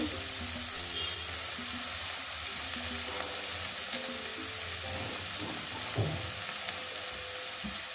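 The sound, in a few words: pointed gourd seeds and scraps frying in a pan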